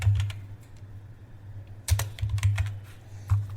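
Quick keystrokes on a computer keyboard entering a search, a close, fairly loud burst of clicks that pauses briefly and then resumes in an uneven clatter over a low steady hum.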